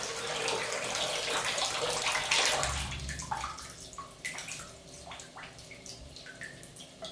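Water runs from a sink drain line during clean-out installation, a steady broadband rush that starts loud, then shifts to a gurgling, dripping flow with scattered splashes over the last few seconds.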